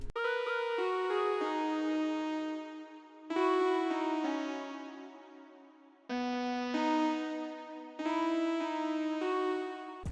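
Levy Zeppelin synth lead from 40's Very Own Keys playing a short counter-melody pattern in an Afrobeat track, bright plucked notes decaying in repeated phrases, loud and clear with no voices.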